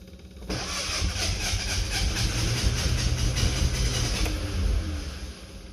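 An old vehicle engine, dormant for 50 years and with a seized throttle cable, cranks and catches, running with a steady rough rumble and hiss for about four seconds before settling.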